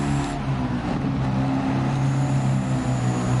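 A Mercedes-Benz Unimog pickup truck driving off-road in Gran Turismo 7, its engine droning steadily with a low harmonic hum and slight pitch shifts, loud and continuous throughout.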